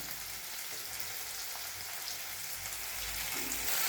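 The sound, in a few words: frying ginger garlic paste with tomato and onion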